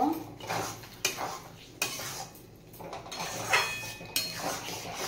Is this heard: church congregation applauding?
no